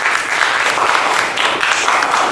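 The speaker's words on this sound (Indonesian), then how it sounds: "Tepuk tangan untuk kita." Classroom applause from schoolchildren during a lesson, a brief burst of dense, energetic clapping, close and steady throughout.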